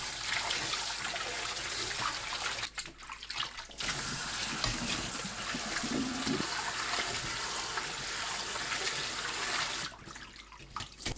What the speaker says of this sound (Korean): 한 분 후 찬물에 두세 번 헹굽니다.